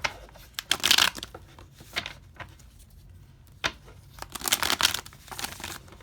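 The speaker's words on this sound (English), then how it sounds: "I'm gonna do 2 more shuffles" Tarot cards being shuffled in several quick riffling bursts separated by brief pauses, close up and crisp.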